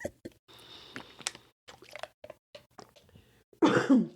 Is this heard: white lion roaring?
no